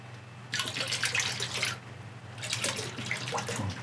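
Two bursts of splashing, pouring water into an ultrasonic cleaner holding a Suzuki GS450 carburetor, separated by a short lull over a steady low hum.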